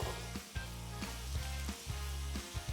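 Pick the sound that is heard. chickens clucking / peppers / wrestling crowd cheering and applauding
peppers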